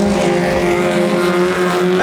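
Race cars roar past on the back straight of a circuit, a loud, close, sustained engine drone with no voices heard.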